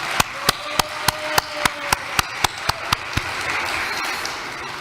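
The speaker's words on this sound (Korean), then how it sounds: "우리 큰 격려의 박수를 부탁드립니다." Church congregation clapping in encouragement: about a dozen loud, evenly spaced unison claps in a quick steady rhythm, over a softer bed of scattered applause that lingers alone once the beat stops.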